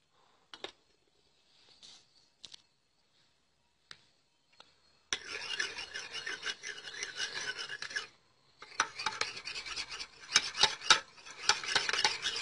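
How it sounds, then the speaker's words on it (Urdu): A spoon stirs milk into tomato juice in a small dish for a homemade skin cream, a few light taps at first, then sustained scraping and clinking strokes against the bowl, close and fairly quiet, with no talking. "1 چمچ ٹماٹر کے رس میں ہم 2 چمچ دودھ ایڈ کر دیں گے"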